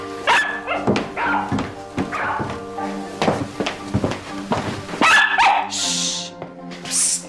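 A dog barks and yips repeatedly in short bursts indoors, close and fairly loud, with brief whimpers between barks.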